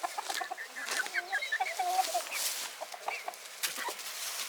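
Chickens cluck and chirp softly nearby in short, irregular bursts, with a young rooster's squeaky calls among them.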